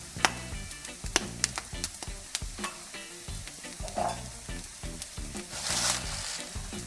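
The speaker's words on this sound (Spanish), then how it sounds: "Hay que irlos salteando a fuego medio alto hasta que estén dorados." Chickpeas sauté in a pan over medium-high heat, a steady close sizzle with rhythmic scraping and stirring strokes throughout, no talking.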